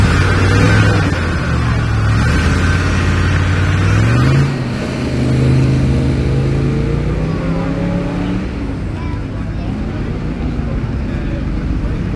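A car launches up a hill-climb course at the start of its run, the engine note rising steadily as it pulls away and gradually fading into the distance, with people talking nearby throughout.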